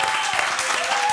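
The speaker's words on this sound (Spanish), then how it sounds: "Que aplausos para Ibai por ser tan valiente." Audience applause at a live talk show, a dense steady clatter of many hands clapping, loud and close, filling the whole moment without speech.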